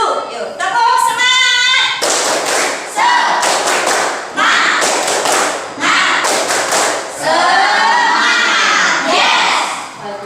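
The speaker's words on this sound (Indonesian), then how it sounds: "Yuk, tepuk semangat." Young schoolchildren in a classroom perform a rhythmic clapping chant together, their voices shouting in unison over sharp, repeated group claps and thuds in several loud bursts.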